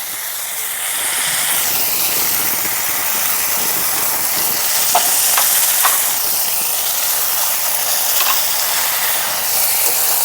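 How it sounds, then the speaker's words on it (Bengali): Dried red chili paste and ginger paste frying in oil with already-fried potato and eggplant, a steady loud hiss of sizzling with a few sharp pops and crackles, close up, no talk. "এখন আমি এর মধ্যে দিয়ে দিচ্ছি শুকনো লঙ্কা বাটা আর আদা বাটা।"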